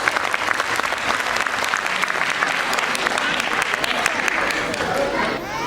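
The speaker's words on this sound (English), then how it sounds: "please encourage our children by giving them a huge round of applause" A large audience at a school class presentation claps continuously and enthusiastically for children, a dense steady applause that tapers slightly at the end.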